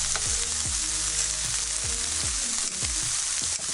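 Frozen food cooking in a pan as a low-calorie, high-protein meal is prepared, giving a steady close sizzle and frying crackle with repeated clinks and scrapes of stirring throughout.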